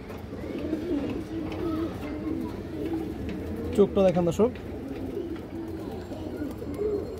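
Pigeons kept for sale coo in the background while someone talks over them, with a sharper rapid burst of calling near the middle.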